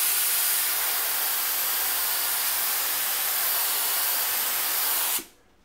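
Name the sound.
paint spray gun spraying thinned paint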